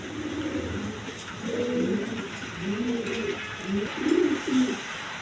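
A pair of shirting pigeons cooing softly nearby, several low rolling coos repeated in short phrases over faint background noise.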